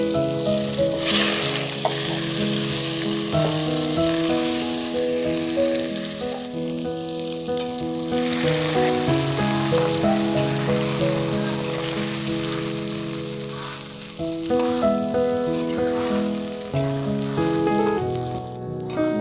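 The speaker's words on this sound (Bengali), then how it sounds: "এবার আমি আমগুলোকে তেলের মধ্যে দিয়ে দেব।" Raw green mango pieces dropped into hot oil in a kadai for a spicy mango pickle, giving a steady sizzling, bubbling fry that runs continuously under loud background music.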